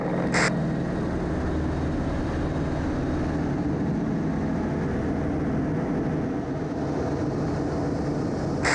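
YAK-50 aerobatic plane flying a half Cuban 8 at an air show, its engine a steady, loud broadband drone with a low rumble that holds level throughout, briefly punctuated by a short sharp burst near the start.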